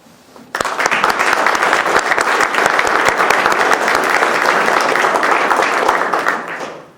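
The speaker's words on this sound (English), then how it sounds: "deserve a great round of applause" An audience at a Manchester Republican Committee event breaks into loud, sustained applause, dense clapping that begins abruptly, holds steady for several seconds and then tapers off.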